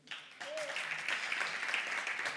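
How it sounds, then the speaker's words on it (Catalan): Faint, distant applause from a small audience at a live comedy show, soft, even clapping that starts abruptly and holds steady, with a brief vocal sound near the start. "Un aplaudiment, no?"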